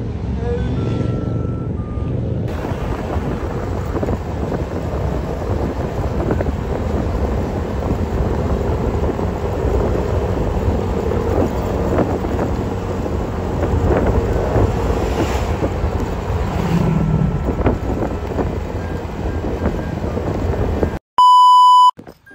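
A large motorcycle engine rumbles steadily while riding, buffeted by loud wind noise, ending with a brief electronic beep.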